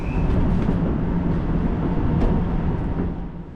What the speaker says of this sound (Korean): 구경을 마치고 다시 모노레일을 타볼까요?